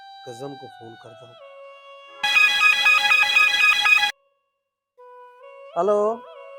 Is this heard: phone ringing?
yes